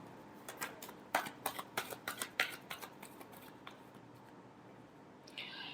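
Tarot cards being shuffled: a quiet run of crisp, rapid riffling flicks in quick bursts that taper off, followed by a faint rustle near the end.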